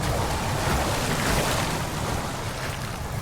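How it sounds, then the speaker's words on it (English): Water splashes and rushes nearby in a flooded cistern in Amnesia: The Dark Descent, a loud, continuous wash of surf-like noise without a break. "Something seems to be splashing nearby"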